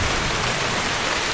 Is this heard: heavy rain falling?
yes